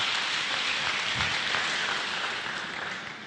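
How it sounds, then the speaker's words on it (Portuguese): Congregation clapping for a man named Batata during a church service, a steady dense wash of applause from many hands that holds even, then slowly fades toward the end. "Pode aplaudir para Jesus aí, o Batata aí."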